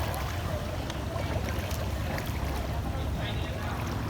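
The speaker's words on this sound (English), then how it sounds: "The exhaust is underwater." Motorbike exhaust bubbling and gurgling underwater while the bike wades through deep water, a steady churning, splashing wash lasting throughout, fairly close.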